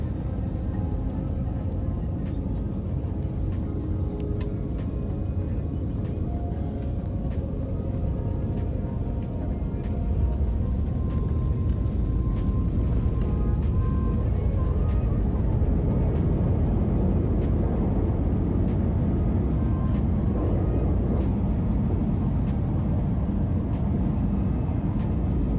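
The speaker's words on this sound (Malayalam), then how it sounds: "ലാൻഡ് ചെയ്യാണ് ഫ്ലൈറ്റ്." Inside an airliner landing at Bangalore International Airport, a loud, steady roar of engine and airflow fills the cabin without a break.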